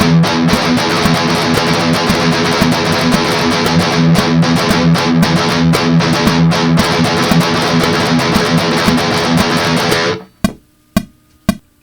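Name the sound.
guitar chugging 8th and 16th notes with fast bursts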